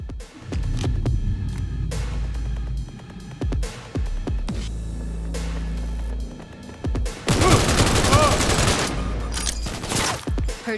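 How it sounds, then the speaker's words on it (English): Cyberpunk 2077 combat: repeated gunshots and bursts of automatic fire punctuate a low droning hum, with a dense, noisy barrage near the end, loud and close, with no voices. "Heard shots."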